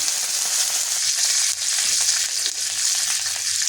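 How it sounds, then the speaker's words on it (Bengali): Mustard seeds crackle and spit in hot oil with slit green chillies and curry leaves, a dense, steady sizzle with scattered sharp pops, close and loud with no voices. "সর্ষেটা বেশ ফটফট আওয়াজ আসলে শুনতে খুব ভালো লাগে।"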